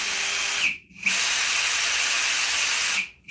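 A DeWalt power tool module under servicing runs at a steady high whine, briefly stopping and restarting twice, loud and close with no talking.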